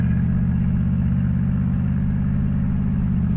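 A V8-swapped Mazda drives along with a steady, close engine drone and low rumble, holding a constant pitch under road and wind noise, no talking.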